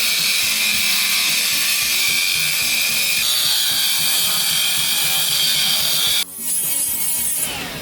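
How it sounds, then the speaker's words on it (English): Loud, continuous grinding of a power tool cutting away a corner of an exhaust header on a 1965 Ford Mustang, steady for about six seconds before the pitch shifts sharply as the cut changes. "I'm going to trim it here and then weld it here to brace it."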